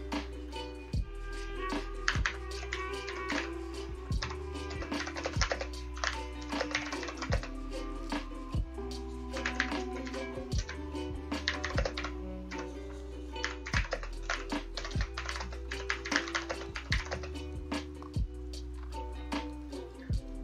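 Someone types on a computer keyboard while writing a poem, producing irregular clicky keystrokes and occasional heavier thumps of the space or enter key, close and steady over a low hum.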